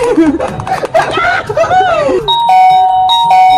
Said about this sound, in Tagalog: Pwede na ulit akong magpindot ng doorbell.